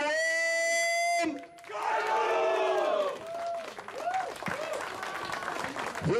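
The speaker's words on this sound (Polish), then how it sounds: "Wielkie brawa!" An outdoor memorial event crowd bursts into applause and cheering after a tone, the clapping and shouts steady and fairly loud, with voices mixed through the noise.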